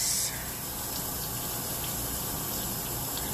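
Running water from a tap pours steadily over basmati rice in a kitchen strainer, a continuous close gushing hiss with no talking.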